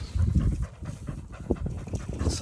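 A dog pants rapidly and heavily close by in a potato field during harvest, breathy rhythmic puffs running continuously with faint outdoor background noise.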